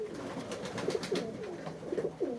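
Pigeons coo repeatedly at evening feeding time in freezing winter weather, several low throaty rolling calls close by over a faint background hiss, with no one talking.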